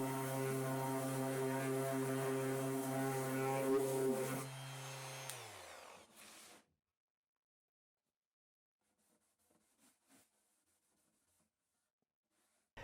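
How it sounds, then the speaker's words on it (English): A random orbit sander set on low runs on the binding edges of an acoustic guitar body, a steady close hum that winds down and stops partway through, followed by quiet with a few faint taps. "a judicious sanding of the edges with a random orbit sander set on low"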